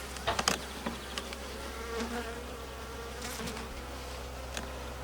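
A steady honeybee buzz hums throughout, with a few brief knocks and rustles near the start, like bees droning around an open Alpine-type hive.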